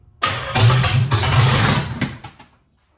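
A hot-rod-built 327 Chevy engine, fired for the first time in 15 years, cranks and catches into a loud, rough roar that holds steady for about two seconds before cutting off abruptly, with no talking.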